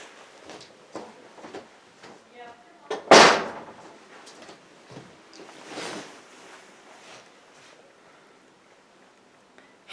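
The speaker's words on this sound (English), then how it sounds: "I need to close my door real quick." A door swings shut with one loud thump partway through, set among quieter scattered knocks and shuffling sounds indoors.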